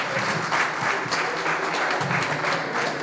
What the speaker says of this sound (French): Avec vous, monsieur Yves Lafortine, applaudissez s'il vous plaît